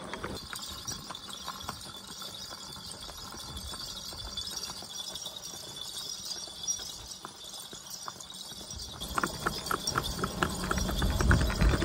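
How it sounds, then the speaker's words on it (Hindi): A mare walks along at an easy pace, her hooves clip-clopping in a steady rhythm outdoors over a constant background rumble that grows louder toward the end. "सदाम भाई कितने पुरसकून तरीके से घोड़ी को लेके जा रहे हैं"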